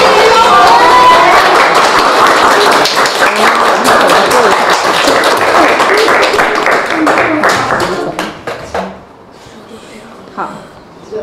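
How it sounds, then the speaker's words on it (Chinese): A classroom of students applauds to welcome a new classmate, with dense clapping that thins into a few scattered claps and fades out. "大家以热烈的掌声欢迎他"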